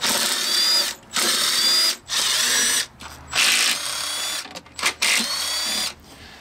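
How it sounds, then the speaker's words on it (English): Power tool spinning out intake manifold bolts on a 1996 Lincoln 4.6L V8, several loud whirring bursts of a second or so each, separated by short pauses, with no talking. "We'll go ahead and start removing the intake bolts now."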